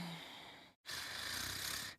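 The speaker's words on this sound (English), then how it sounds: "I'm snoring." A voice fakes snoring in two drawn-out breathy snores separated by a short pause, a character voice line from the video game Danganronpa V3: Killing Harmony.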